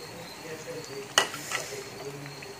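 Bread and egg toast pieces frying in lightly heated oil, with a steady soft sizzle and one sharper crackle burst as a piece goes in, followed by a smaller spatter.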